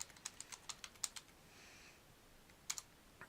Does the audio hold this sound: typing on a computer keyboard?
yes